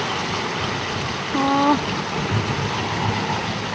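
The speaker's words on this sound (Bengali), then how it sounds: "এই বৃষ্টি আমার খুব পছন্দ" Steady rain falling outside a village house, a soft even hiss heard from indoors by a window, with a brief tonal whine rising partway through.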